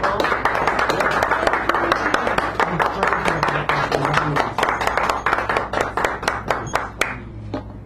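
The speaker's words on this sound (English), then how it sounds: "So let's give him a round of applause." A small audience at a café poetry reading in San Francisco claps together, a dense burst of applause that thins into scattered, slowing hand claps before fading out.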